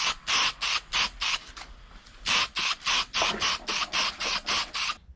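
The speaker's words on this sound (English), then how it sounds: "I'll give them a quick spray" Aerosol spray can misting alternator parts and fins during a Toyota 7K turbo engine rebuild, a rapid series of short hissing bursts, close and evenly paced with a brief pause midway.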